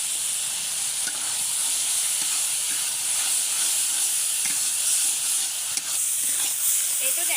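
Gourd leaves stir-fried with dried fish and green chilies sizzle steadily in a pan, a continuous close hiss with faint scraping of stirring throughout.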